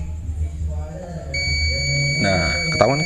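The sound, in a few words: multimeter continuity beep while testing a motorcycle ignition coil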